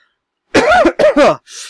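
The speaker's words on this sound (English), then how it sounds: "Had a cough coming." Sharp, close coughs from a man, two quick bursts followed by a softer breathy exhale, loud and isolated against silence.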